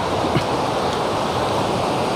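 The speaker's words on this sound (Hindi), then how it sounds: "काफ़ी पानी तेज है बारिश की वजह से" A fast-flowing river at Robi Nala near Haflong, swollen by rain, rushes in a steady, loud broadband roar with no breaks, close by and alone.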